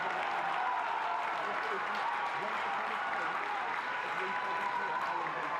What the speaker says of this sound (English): Crowd responding as well.